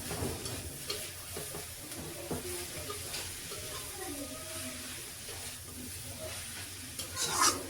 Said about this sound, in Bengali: আর একটু নাড়াচাড়া করে তুলে নিব শাকটা।